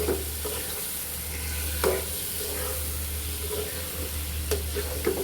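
Pabda fish, boal fish tail and small fish being sautéed in a pan, a continuous close sizzle and hiss with a few sharp utensil scrapes and clinks, no talking.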